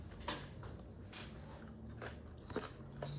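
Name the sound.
biting and chewing a crunchy chocolate chip cookie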